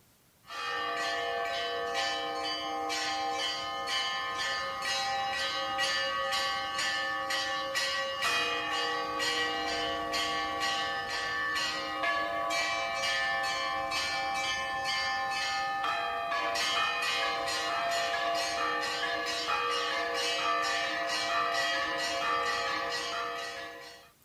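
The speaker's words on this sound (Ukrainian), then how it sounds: "І дзвони теж треба трохи послухати." Church bells ring continuously in a steady, overlapping peal, loud and sustained for the whole stretch with no voices.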